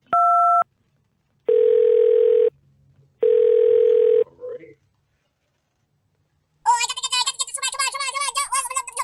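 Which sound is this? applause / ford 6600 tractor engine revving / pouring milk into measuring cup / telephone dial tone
telephone dial tone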